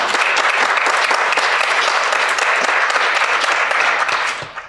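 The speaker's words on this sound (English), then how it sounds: "Clap it up for Chad Lemoyne." A crowd at a talk breaks into loud, sustained clapping, dense and close, continuing for several seconds before tapering off sharply at the end.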